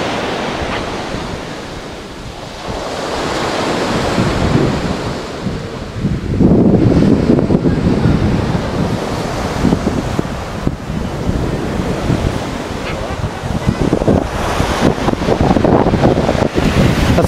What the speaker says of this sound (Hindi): अच्छा मेडिटेरियन सी है जी ये।